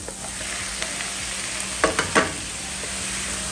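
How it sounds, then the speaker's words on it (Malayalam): Chopped tomatoes dropped into a hot pan for butter chicken fry with a steady close hiss, broken by a few brief scraping stirs near the middle, with no talking. "ഞാനിവിടെ നാല് ടൊമാറ്റോ ഇച്ചിരി വലിയ പീസസ് ആയിട്ട് തന്നെ കണ്ടിച്ച് വെച്ചിട്ടുണ്ട് അതങ്ങ് ഇട്ട് കൊടുക്കുവാണ്"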